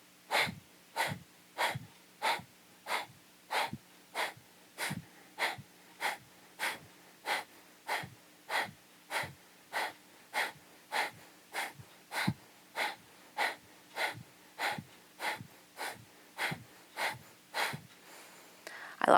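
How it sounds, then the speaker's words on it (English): Breath of fire breathing exercise: a long run of about thirty sharp, forceful nasal breaths snapped from the belly, evenly spaced and steady in rhythm, quiet and close with no talking. "Inhale, and then exhale."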